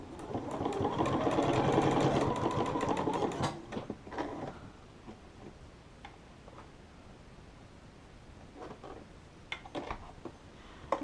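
A sewing machine runs in a steady rapid stitching burst for a few seconds while sewing a Minecraft Creeper T-shirt, then stops, followed by quiet handling clicks and fabric movement.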